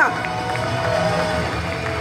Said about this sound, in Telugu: సార్కి ఒకసారి గ్రాండ్గా క్లాప్స్ ఇద్దామా?